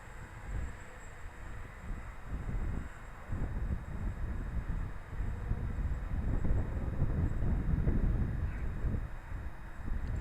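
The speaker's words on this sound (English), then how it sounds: "the wind is just taking it away." Strong, gusty wind buffets the microphone in a park in Midtown Anchorage, Alaska, a steady low roar that swells and surges throughout, loudest toward the end, with no voices.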